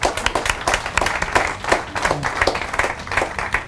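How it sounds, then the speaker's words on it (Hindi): Audience claps for volunteers at a motivational talk, uneven bursts of hand claps from a modest crowd, fairly close, with faint voices mixed in. "तो जोश साहब के लिए जोरदार तालियां एक बार"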